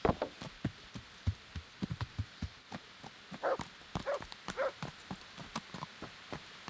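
A horse's hooves clip-clop in the medieval video game Kingdom Come: Deliverance, with evenly spaced, soft thuds at a walking pace. The sound is quiet, and no one speaks.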